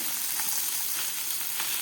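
Fish sizzling in a frying pan just after being turned, a close steady crackle with a few small pops and no talking.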